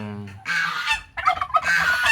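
Rhode Island Red chickens and an Ayam Cemani cross flock call out with loud, close honking squawks in several bursts, heard alone without talk.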